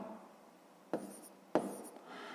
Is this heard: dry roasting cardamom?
no